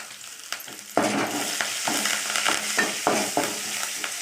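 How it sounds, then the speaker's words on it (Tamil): Shallots and curry leaves sautéing in a pan for ivy gourd stir-fry, a steady close sizzle broken by repeated scraping stirs of a spatula against the pan, no voices. "நல்லா வதக்கணும்."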